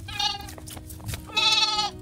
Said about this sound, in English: Goats are out, they're grazing about.